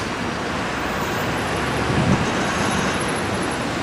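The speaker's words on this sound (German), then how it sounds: "Es kommen immer mehr Autos hier jetzt vorbei." Dense road traffic on a Berlin street near the East Side Gallery, a steady broadband roar of cars driving past that swells slightly in the middle, with no talk over it.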